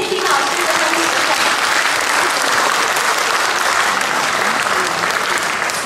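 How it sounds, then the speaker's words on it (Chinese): An audience claps warmly after a Yue opera performance of Sanxiao, continuous dense applause from a crowd, loud and even for the whole stretch with a voice partly audible beneath it. "让我们再次用热烈的掌声感谢丁老师的努力"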